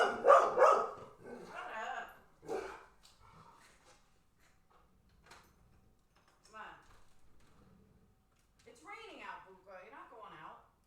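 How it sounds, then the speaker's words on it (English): A house dog barks in several loud, close bursts at the start and again near the end, with a person talking in between. "Hang on, I gotta let the dog out."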